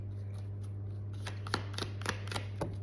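Tarot cards being shuffled to draw one or two, a steady low hum underneath, with faint soft riffles early that build to several louder, sharp card slaps and flicks in the second half.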